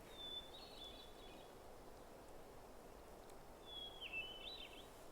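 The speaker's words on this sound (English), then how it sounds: "hermit thrush singing like mad." Hermit thrush singing at higher elevation, two separate faint, distant fluting phrases a few seconds apart over quiet outdoor ambience.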